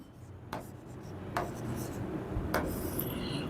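A pen writes out a calculus differentiation solution by hand, giving close, soft scratching and rubbing strokes broken by a few sharp taps as it meets the paper, under faint background noise.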